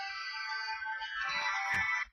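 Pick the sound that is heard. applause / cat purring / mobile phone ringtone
mobile phone ringtone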